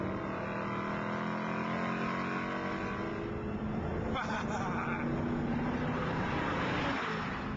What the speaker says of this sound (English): there's an exhaust that sounds like someone torturing a lion through stadium speakers.